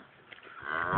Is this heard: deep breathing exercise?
no